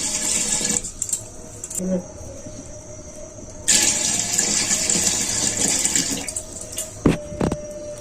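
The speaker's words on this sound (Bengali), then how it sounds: "আমি প্রথমেই এবারে স্টিলের হাঁড়িতে জল দিয়ে দিচ্ছি" Water streams into a steel cooking pot in two long pours separated by a pause, a bright hissing splash ending with a few clanks of the pot.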